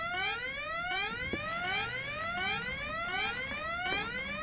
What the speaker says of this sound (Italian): Perché quel dannato allarme è scattato di nuovo?